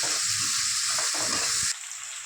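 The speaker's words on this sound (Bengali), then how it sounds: "পেঁয়াজ দিয়ে দিচ্ছি, টমেটো দিয়ে দিলাম, ভাজা ভাজা হয়ে যায়।" Onions and tomatoes frying in a pan give a steady, fairly loud sizzling hiss with faint stirring underneath, until the sizzle suddenly drops to a quieter hiss near the end.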